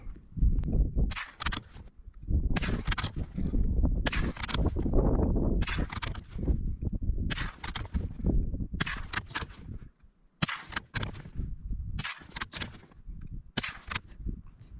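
Ten .22 LR rifle shots from a Ruger American firing Federal Automatch ammunition at a 50-yard range, sharp cracks spaced about a second apart with short echoing tails, loud and close, no talking.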